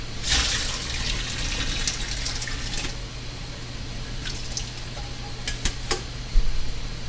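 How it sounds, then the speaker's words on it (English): Hot linguine is drained in a kitchen sink while the tap runs, giving a steady rush and splash of water with a few clattering knocks of pasta and pot, and no one speaking. "we're going to go ahead and drain it in the sink. I run some water down with it"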